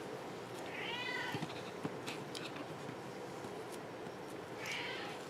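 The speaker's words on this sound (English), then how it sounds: "If you hear my cat, I apologize. He likes to talk" A pet cat meows indoors, two drawn-out calls about four seconds apart, fairly close over a quiet room with light background noise and small clicks.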